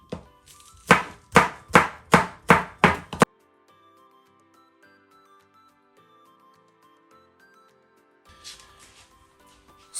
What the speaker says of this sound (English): I'm gonna chop my spring onions and the ginger to really small pieces.